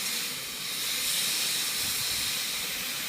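Ginger, cumin and coriander masala cooking in a pan with a little added water, a loud continuous steamy hiss and sizzle, steady and close with no talking.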